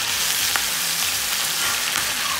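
Chicken fries in a pan with crushed ginger and garlic, a steady close hiss and crackle of hot oil with a few faint stirring clicks.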